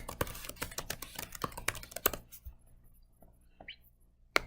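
Rapid clattering keystrokes on a computer keyboard, a quick dense burst of typing for about two seconds, then a few isolated clicks, close and fairly quiet.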